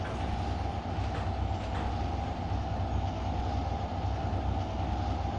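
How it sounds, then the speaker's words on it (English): A simulated train in Trainz Railroad Simulator 2022 runs at full throttle, a steady, dense rumble of engine and rolling wheels with a constant hum and faint rhythmic clacks, continuous throughout with no voices. "we are driving the train full throttle"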